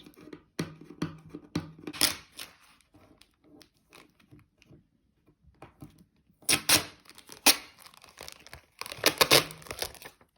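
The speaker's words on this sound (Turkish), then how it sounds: "Şimdi şuradaki bantlarımdan tutup çekiyorum." Adhesive tape being pulled and peeled away from fabric during lace sewing work, a series of crackly ripping and crinkling bursts coming in clusters with short quiet gaps between, close and fairly loud.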